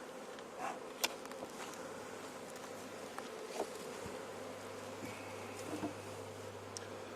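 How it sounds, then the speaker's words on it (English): Honey bees buzz steadily around a hive entrance as they march inside, a low continuous drone with a few louder passes close by and no voices. "That shirt was covered in little bees, and they're just marching into that hive there."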